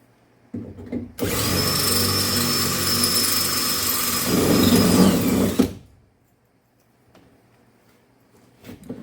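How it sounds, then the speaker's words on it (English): A power drill whirs loudly and steadily for several seconds on an OBS Ford truck door, pitch shifting near the end before it stops, leaving quiet room noise. "Gotta grab the drill."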